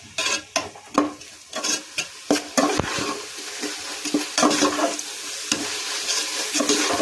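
Ginger garlic paste sizzles in a hot pan while a spoon stirs it, giving sharp repeated scraping strokes over a constant frying hiss.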